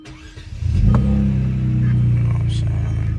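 A car engine cranks and catches, then settles into a deep, loud rumbling idle close by.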